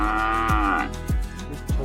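A young bull calf of two to three months at a cattle market gives three short, loud moos in quick succession, close by and without talk over it.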